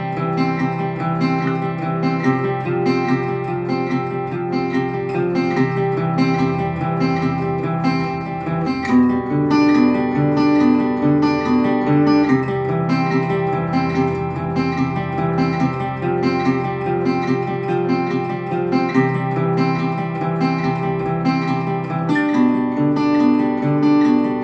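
Guitar played with alternate picking, a steady stream of evenly spaced picked notes in a regular rhythm that continues throughout, heard up close and clearly with no other sounds.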